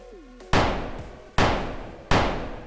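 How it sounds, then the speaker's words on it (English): A single gunshot sound effect from the Fortnite editor UEFN fires three times in succession, each a sharp loud crack with a decaying tail, spaced under a second apart, after a brief low tone at the start. "so this is a single gunshot."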